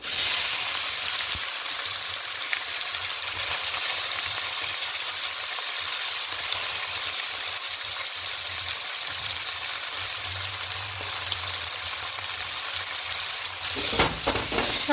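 Salted, softened vegetables fry in a pan for veg fried rice, a loud continuous hiss and crackle with occasional stirring scrapes, a brief clatter near the end, no talking.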